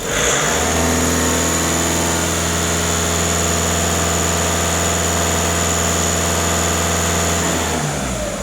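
A Skoda A5 engine held at raised revs during an emissions-system check and cleaning, a steady, loud mechanical drone with a constant pitch for about seven seconds before it drops away. No one speaks.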